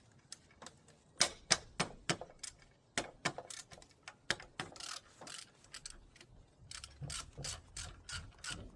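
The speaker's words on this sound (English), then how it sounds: "Next we're gonna undo this bolt here." A ratchet undoes a bolt during a water pump and auxiliary belt change on a 2011 Ford Focus, giving rapid bursts of crisp clicking with short pauses between strokes, close up and without talk.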